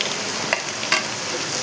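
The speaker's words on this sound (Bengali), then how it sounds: "আমি এখন পেঁয়াজটা দিয়ে দেবো। পেঁয়াজটা ভেজেই" Onions fry in a pan during cooking of dried loitta fish with red amaranth greens, giving a continuous close hiss of sizzling oil with a couple of faint stirring scrapes.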